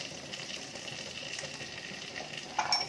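Green chillies, curry leaves and asafoetida frying in a pan for millet coconut rice give a soft, continuous sizzle with faint stirring, and a brief brighter scrape near the end.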